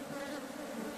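Honey bees buzzing inside a hive emptied of honey after bushfires, a steady, dense drone that is close and continuous throughout.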